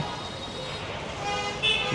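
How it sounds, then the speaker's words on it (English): Car horns honk in busy Mumbai street traffic, with a short, brighter toot standing out near the end over a steady roadway rumble and faint background voices. "I need to like the sound of the honking"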